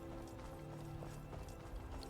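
A horse's hooves clip-clop faintly in a Skyrim-style fantasy video game, with soft, steady steps under a low ambient hum and drone.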